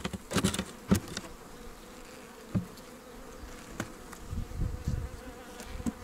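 Honey bees buzz around an opened beehive frame, a soft continuous drone with several sharp clicks and knocks from handling the hive, no voices.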